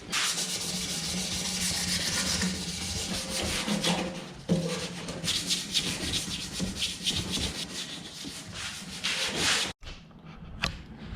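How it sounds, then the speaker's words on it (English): Steady abrasive rubbing as a 2020 Kawasaki ZX6R motorcycle fuel tank is sanded by hand in a home garage to dull the gloss finish, continuous close scraping strokes with a brief pause near the end. "you want to sand enough to take away that gloss finish, that sheen, and get like a matte satin finish"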